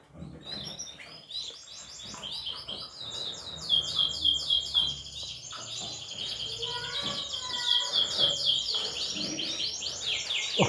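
Canary chicks chirp in rapid high trills and peeps, close and continuous, while faint low voices murmur underneath.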